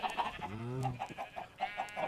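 Game chickens in IndieCraft cluck in short repeated bursts, with one longer drawn-out squawk partway through, close and fairly loud against a quiet background.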